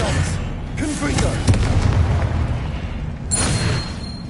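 Spell explosions from the Confringo curse in Hogwarts Legacy, played on PS5, with booming low bursts and crackling impacts layered over game effects and a spoken voice.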